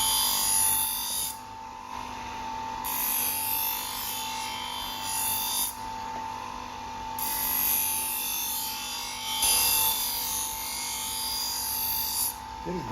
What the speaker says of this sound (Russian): И начинаем полировку.